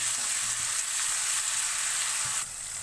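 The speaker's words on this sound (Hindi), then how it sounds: "लहसुन अदरक को मैंने गरम मसाले के साथ 1 मिनट के लिए अच्छे से हाई फ्लेम पे भून लिया है" Garlic ginger paste frying with garam masala in hot oil over a high flame, a steady bright sizzle held for about three seconds that softens slightly near the end.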